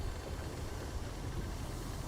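A low engine hum fills the engine room of a ship in the game The Book Walker: Thief of Tales. It is a steady, continuous drone with no talking.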